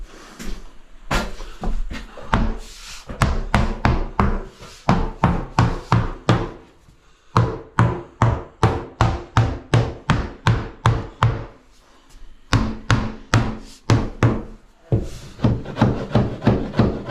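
Wooden VJ board panelling is hammered into place with a long series of sharp, hollow knocks, struck in quick bursts with short pauses between them, close and fairly loud throughout.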